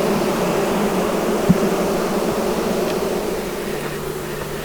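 A honey bee swarm droning around a hive box, a dense continuous buzz at moderate level with one brief knock, no voices.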